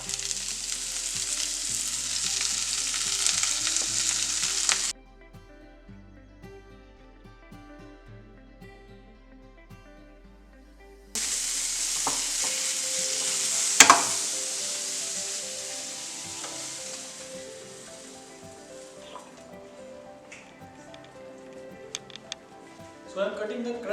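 Spinach with garlic frying and being stirred in a pan, a steady broadband sizzle with scraping that drops out for several seconds midway, then resumes with a sharp clatter and occasional clicks.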